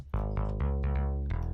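Short run of synth bass notes in a dance music production track, a few punchy plucked hits with deep sustained low end, close and loud with no voices.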